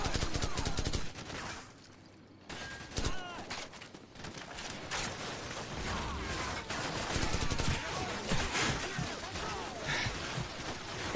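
Battlefield gunfire and grenades from Call of Duty 4: Modern Warfare, aimed at a church: dense bursts of shots and heavy blasts crowd together, pause briefly, then continue in a thick, close fusillade.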